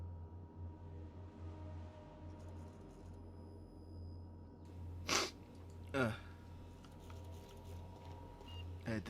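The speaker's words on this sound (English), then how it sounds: "I had to sneeze really bad." Two sharp sneezes from a person playing The Outer Worlds on PC, about a second apart, loud and close over a steady low hum and quiet game background.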